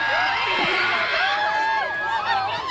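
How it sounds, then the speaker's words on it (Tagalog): A large fan crowd at a Bulacan State University fan event erupts into sustained high-pitched screaming and cheering as a performer turns to face them, many overlapping voices holding at a steady, loud level. "Nung humarap, bigla nung sigawan."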